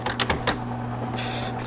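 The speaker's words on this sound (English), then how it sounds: "So I'm just going to start typing away, and you guys can watch what the typewriter is doing" A typewriter used without ink gives a quick burst of four sharp, close key strikes over a steady low hum, followed by quieter mechanical rattling.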